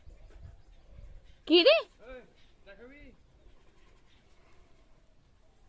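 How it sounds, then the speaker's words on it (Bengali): A bird, likely a pigeon or dove, gives a loud call around the middle, followed by a few softer coos, with a human voice speaking briefly amid a quiet household background. "পাখি পাখি ডাকছে, পাখিটাকে ডাকো।"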